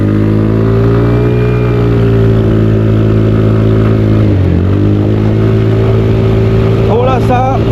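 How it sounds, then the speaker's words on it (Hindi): A TVS Ntorq 150 scooter accelerates at full throttle, its engine holding a loud, steady drone close by, briefly dipping in pitch before climbing again, with the rider's voice faintly underneath. "मैं फटाक से थ्रोटल ले रहा हूँ।"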